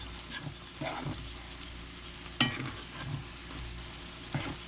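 Two small cut potatoes and half an onion fry in a pan, a steady sizzle broken by a few scraping stirs, close and moderately loud with no talking.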